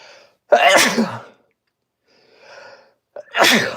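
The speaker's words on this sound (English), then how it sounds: "I gotta sneeze, man" Two loud, close sneezes a few seconds apart, each a sharp explosive burst, with a softer breathy rustle between them.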